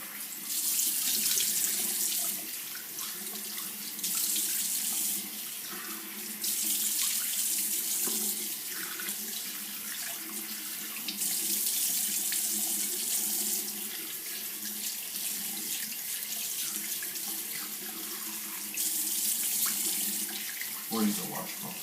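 Water runs steadily from a tap into a bathroom sink during a face rinse, a constant hissing flow with a few louder surges and splashes, and a brief low thump near the end.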